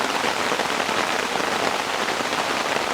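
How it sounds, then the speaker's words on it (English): Heavy rain drums on a hammock rain fly while camping, a dense, loud, steady hiss of countless drops with no pauses or voices. "It decided to rain pretty heavy"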